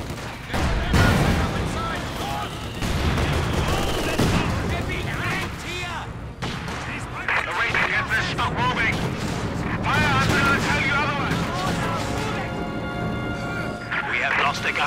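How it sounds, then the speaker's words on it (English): Gunfire and artillery blasts fill a Company of Heroes 2 battle on hard difficulty, with dense, continuous shooting and booming impacts layered over in-game voices and sound effects. "They're shooting at us, Martin."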